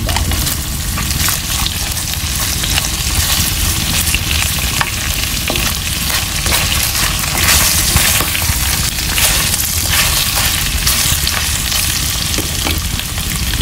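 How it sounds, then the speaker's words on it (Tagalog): Garlic dropped into hot oil on high fire, a loud, steady crackling sizzle with a wet frying hiss that holds throughout at close range, with no voices. "nung nagmantika na, ilagay na po natin ang ating bawang"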